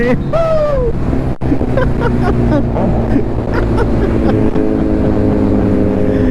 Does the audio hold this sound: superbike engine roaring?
yes